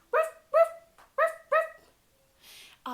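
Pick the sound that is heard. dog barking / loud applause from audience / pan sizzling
dog barking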